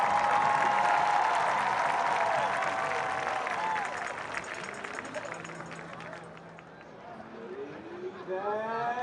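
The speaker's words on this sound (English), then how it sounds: "Give them a round of applause." A crowd in a stadium applauds 4th and 5th year marchers at a college football game, broad clapping and cheering under a booming announcer's voice, with band brass and whistles sounding near the end.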